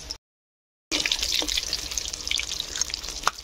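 Small singara (samosas) sizzling in hot oil, a steady bubbling crackle with occasional pops after a brief silence.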